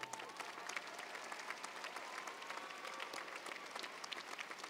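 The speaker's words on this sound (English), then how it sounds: "That deserves a round of applause." Steady applause from an audience at a commencement ceremony, a dense even patter of many hands clapping throughout, moderately distant and without pause.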